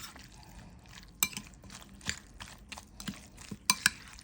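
Sliced sweet-sour-spicy mango being mixed by hand with mustard oil and kasundi in a bowl: soft wet squelching and stirring, with a few light clinks against the dish, close and quiet, no voices.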